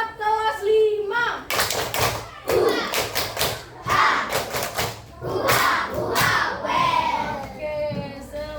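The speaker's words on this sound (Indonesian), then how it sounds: "Oke, tepuk semangat kelas 5." A fifth-grade class in an Indonesian classroom performs a rhythmic spirit clapping chant. Bursts of sharp claps and thumps alternate with children chanting together, and a teacher voice comes first.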